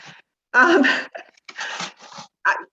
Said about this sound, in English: it's because my dogs are barking.